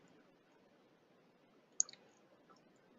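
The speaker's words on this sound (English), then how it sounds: "I click the Select tool" A computer mouse is clicked a few times, producing short, crisp clicks in a quiet room while editing in mapping software.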